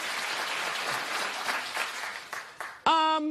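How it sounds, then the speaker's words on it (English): Studio audience on a daytime talk show claps in a brief, dense burst that thins out, then a short sustained tone cuts in at the end. "Clap if you remember Forum magazine."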